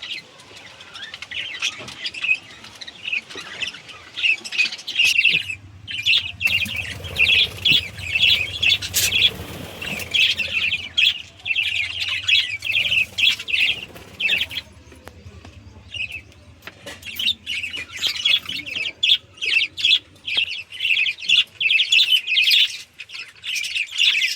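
Pet budgerigars in a large cage, including a normal budgie paired with a mate, chirp busily in bright overlapping bursts with occasional wing flaps, close by and continuous throughout, with no talking.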